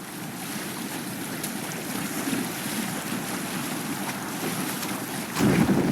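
A Viking sailing ship crossing open sea in Assassin's Creed Valhalla, with a continuous rush of waves and wind against the hull and a louder surge of water at the end.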